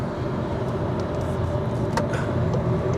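A VW eGolf electric car speeds up at full power, heard from inside as a steady rush of road and wind noise with a faint motor hum under it and no voices.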